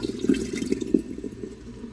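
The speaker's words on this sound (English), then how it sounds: "It's not coming up this side, and it's draining out on your dishwasher here." Water from a dishwasher draining through a kitchen sink, a close gurgling, sloshing flow with bubbling pulses that continues steadily without speech.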